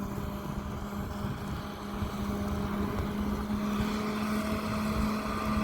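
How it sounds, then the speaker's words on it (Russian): Tractor clearing snow during a blizzard, driving back and forth along a street: a steady low engine drone with a faint tonal hum, heard at a distance under continuous wind noise, with no talking. "А что вот трактор ездит? Что толку тоже чистит, как я же."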